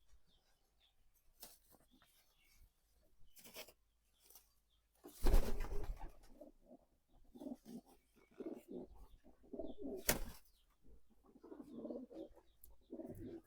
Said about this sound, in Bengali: দেখেন কবুতরগুলো এখন রিলিজ করে দিই